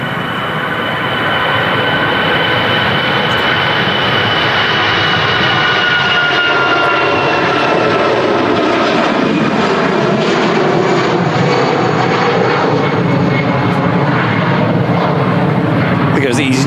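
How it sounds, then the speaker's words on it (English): Airliner engine roar from an aircraft approaching to land at Manchester Airport, a loud steady broadband rumble sustained throughout, with people talking over it. "there's an aircraft about to land as well"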